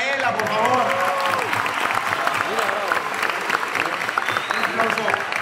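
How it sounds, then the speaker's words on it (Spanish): A crowd at a forum event applauds a contest winner, a steady wash of clapping lasting several seconds, with a voice speaking over it at the start and cheering mixed in. "Un aplauso para Micaela, por favor."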